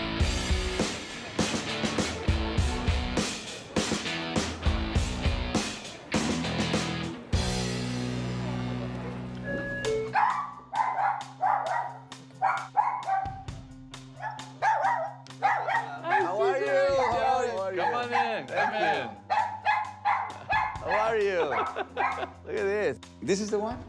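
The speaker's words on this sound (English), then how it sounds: "this is the good dog" A dog barks in repeated sharp bursts amid loud background music early on, later yipping and whimpering in short calls mixed with people talking over it.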